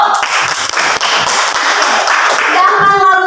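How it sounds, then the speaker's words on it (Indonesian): Students in a chemistry classroom break into a burst of hand clapping, a dense, steady patter of many palms lasting a few seconds, with some voices mixed in. "Iya, tepuk tangan dulu."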